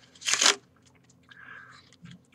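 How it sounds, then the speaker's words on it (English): A packet of playing cards is riffle-shuffled in one quick, crisp burst of flicking cards, followed by quieter handling noises. "Riffle that packet first."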